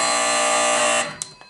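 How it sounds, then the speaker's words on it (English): An old Ericsson telephone switchboard buzzer sounds a loud, steady electric buzz for about a second, then cuts off and leaves two faint clicks. "the buzzer will sound"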